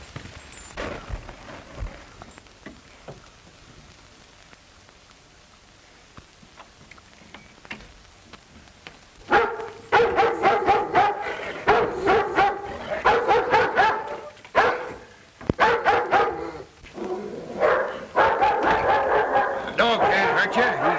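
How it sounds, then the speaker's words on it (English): A tied dog in a western film barks loudly and repeatedly in rapid bursts after a quieter stretch, the barking close and insistent with brief pauses between volleys. "The dog can't hurt you. He's tied."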